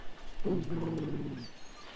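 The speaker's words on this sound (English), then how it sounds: "The Mabari growls weakly, but he does not challenge you." A Mabari war dog in Dragon Age: Origins, ill and in pain, lets out a single low, rumbling growl lasting about a second, close and fairly loud with no talking over it.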